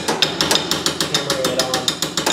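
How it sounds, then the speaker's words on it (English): Repeated metallic hammer blows drive a giant wrench onto a Porsche Cayman 987 tie rod, about a dozen sharp strikes in a steady rhythm, loud and close with no talking. "forcing it on basically just by taking this giant wrench"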